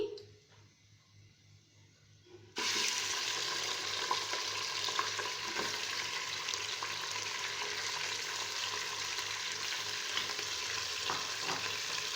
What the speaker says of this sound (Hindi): मटन डाल के अब मैं इसको 5 मिनट के लिए भून लूंगी ताकि मटन का कच्चापन खत्म हो जाए